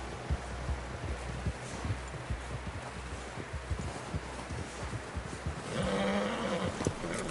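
Horse in Red Dead Redemption 2, a steady thumping of hooves under a dense game ambience, with a brighter tonal burst near the end.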